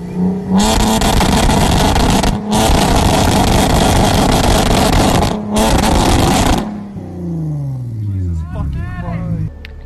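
Nissan 370Z with a loud aftermarket single-exit exhaust revving hard in bursts, three long roaring pulls separated by brief gaps, then a falling, burbling idle with crackles, close and very loud.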